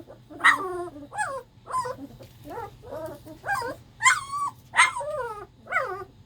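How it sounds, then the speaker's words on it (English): Small dogs growl, whimper and let out high yips in a string of short bursts, close by, over a low steady hum. "Barking into the corner."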